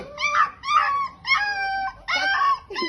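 A puppy howls and cries in several long, wavering, high-pitched wails close by, each with a brief pause between them.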